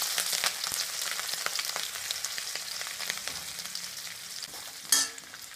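Green chillies added to hot oil with popped mustard seeds and urad dal for puffed rice upma sizzle steadily and close, with a few spoon scrapes and a sharp burst of crackling near the end.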